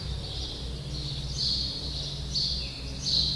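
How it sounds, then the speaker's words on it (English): Many noisy birds call outdoors in repeated high chirps and trills over a low steady background hum, moderately distant and with no talking. "there's a lot of birds around, huh? They're very noisy."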